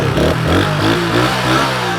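A motorcycle engine revs up and down in short bursts, loud and close, with rattling clatter mixed in and no talking over it.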